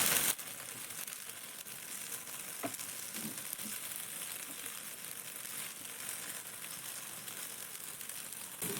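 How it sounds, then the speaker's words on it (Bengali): Batter tiffins made with flattened rice fry in hot oil with mustard seeds scattered on top, giving a steady, close sizzle throughout with a few faint crackles and utensil touches, and no talking. "সর্ষের দানাগুলো উল্টে পাল্টে যখন এই টিফিনগুলো ভেজে নিব"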